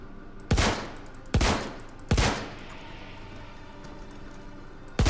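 Semi-automatic 8mm sniper rifle firing in Star Citizen: three sharp, loud, evenly spaced shots with brief decaying tails, then the onset of a fourth shot at the very end.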